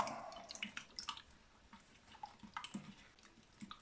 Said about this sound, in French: laver mes noyaux dans l'eau